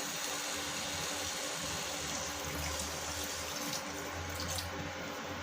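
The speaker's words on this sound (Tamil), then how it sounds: "இப்போ நம்ம தேவையான அளவு தண்ணி ஊற்றிக்கலாம்" Water pours steadily into a pan of cauliflower gravy being cooked, a continuous close splashing and trickling stream with a faint low hum underneath, and no talking.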